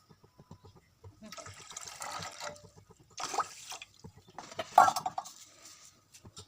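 Water is poured into a pan of sugar for gulab jamun syrup in three splashy bursts, with a light clink of metal and quiet speech in between.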